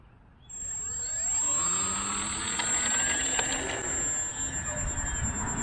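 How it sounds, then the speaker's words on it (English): Multiplex Funman 3CH trainer RC airplane electric motor spinning up for takeoff, a steady loud whine that rises in pitch and holds strong throughout, with a high constant tone above it. "I'm going to attempt to take off here."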